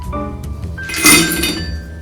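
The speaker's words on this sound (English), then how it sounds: "We're just going to add some ice to it and get it" Ice cubes drop into a cocktail glass at a Michelin-starred pub kitchen, a few close, bright clinks and rattles that build into a louder clatter midway, with no talking.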